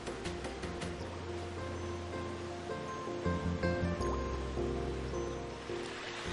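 Steady flowing water of Ourimbah Creek with soft gurgles and drips, close by and continuous, layered under a faint hum and scattered tonal noise.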